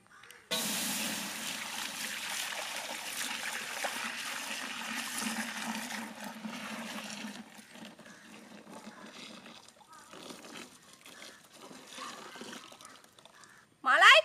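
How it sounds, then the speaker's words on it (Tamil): Ten litres of milk poured into a pot for village-style malai kulfi, a steady splashing gush that thins to a lighter trickle before a sharp clatter at the end. "மலாய் குல்பி செய்யறதுக்கு இப்ப பத்து லிட்டர் பால் ஊத்திக்கலாம்"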